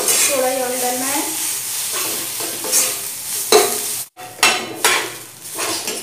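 A spoon stirs spiced potato filling in a pan with a little oil, scraping and clinking against the metal in a steady rhythm, with soft sizzling underneath and one brief pause.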